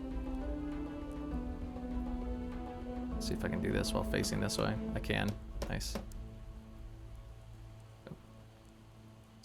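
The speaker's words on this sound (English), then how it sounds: "Oh, it's starting to rain." Rain falls in the video game Project Zomboid, a soft hiss that swells into a patter of drops in the middle, beneath someone talking quietly over it.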